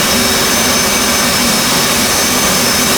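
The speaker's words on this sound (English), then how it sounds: "Now it is time to crank the left engine." An F/A-18C's left jet engine cranks up in a flight simulator, a steady loud whining roar with a high turbine tone held throughout, no talk.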